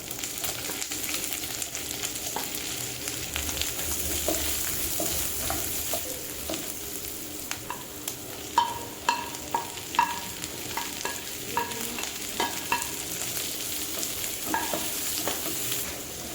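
Shallots and onions stir-fried with grated coconut in a pan for Kerala-style prawn roast, a steady sizzle with repeated scraping clicks from stirring that grow sharper midway, close and alone.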